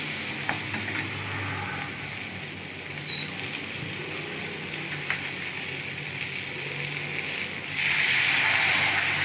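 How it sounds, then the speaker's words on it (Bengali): A fish head sizzles and is stirred in a pan for bitter gourd curry, a continuous close frying hiss with faint scraping, swelling into a louder, brighter sizzle near the end. "মাছের মাথা দিয়ে ভালো করে একটু নেড়ে নেবো"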